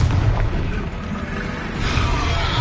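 A Confringo fire spell blasts in Hogwarts Legacy, producing a dense, rumbling, roaring burst of noise that holds steady and swells slightly near the end.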